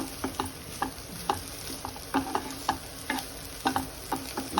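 Grated ash gourd fries in ghee over a low flame, giving a steady soft sizzle broken by irregular sharp ticks and pops from stirring, close and unaccompanied by talk.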